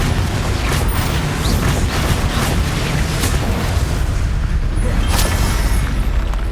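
Spell blast from a Confringo cast in Hogwarts Legacy, a dense continuous booming rumble with repeated bursts over about six seconds, loud and heavy in the low end, no voices.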